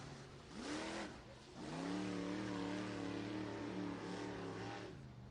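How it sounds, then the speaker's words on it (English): A pro stock race car engine at a dirt track night event revs in uneven surges, struggling to climb fully up the rev range, heard alone at a moderate distance. "Still not able to get up all the way on the revs, it sounds like."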